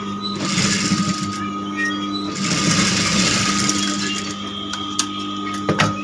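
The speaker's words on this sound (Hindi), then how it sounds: "इस पे एक और सिलाई देंगे।" A sewing machine runs steadily, stitching blouse fabric for a princess-cut blouse, with a continuous whirring drone nearby and a few brief knocks near the end; no talking.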